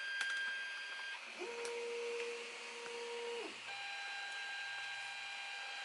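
A Creality CR10S 3D printer runs auto bed leveling with an ABL sensor, stepper motors whining in steady sustained tones that glide up and shift pitch between moves, close and clear with no talking.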